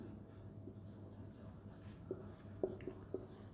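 Pen writing on paper during a geometry lesson about cube volumes, a soft steady scratching with a few sharper taps and strokes near the end, alone with no talk.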